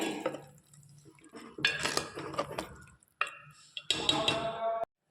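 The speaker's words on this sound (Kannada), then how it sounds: "ಈಗ ಸ್ವಲ್ಪ ನೀರು ಹಾಕ್ಕೊಳ್ತಾ ಇದ್ದೀನಿ" Water poured into a cooking pot of okra sambar masala on a home stove, a short splashing rush amid clattering pots and utensils, with faint background sound.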